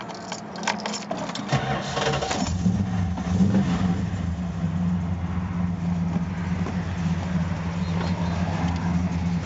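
A 1979 Chrysler New Yorker fitted with loud mufflers starts up, a brief cranking clatter at first, then a steady, deep, rumbling idle that stays loud and close throughout, with a faint rattle over it.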